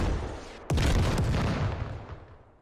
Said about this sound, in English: Rockets still coming in, still a little off target.